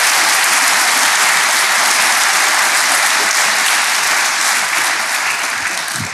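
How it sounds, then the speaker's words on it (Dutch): Audience at a live podcast recording applauds loudly and continuously, a dense, close wash of clapping that holds steady and only slightly thins at the end. "groot applaus voor alle vragen die gesteld zijn vandaag"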